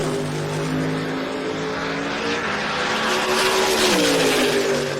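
Drag race cars, including a Camaro running Rowdy Radial, roar down the strip on a pass, a loud sustained engine howl that rises and shifts pitch near the end.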